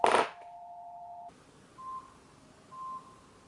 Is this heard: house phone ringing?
yes